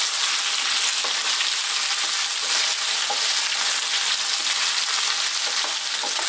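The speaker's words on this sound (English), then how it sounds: "on this fairly high heat, let's throw these around for like 3 to 4 minutes, stirring pretty much all the time" Potatoes for saag aloo stir-fried on fairly high heat, a loud, dense, unbroken sizzle close by with faint scraping as they are tossed around.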